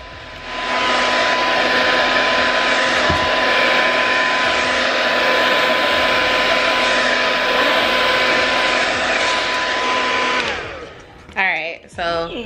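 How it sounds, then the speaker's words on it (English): A hair dryer blows at a section of a child's natural hair, a loud steady whirring roar that runs for about ten seconds, then switches off as a voice starts speaking. "I've blown dry this one section out"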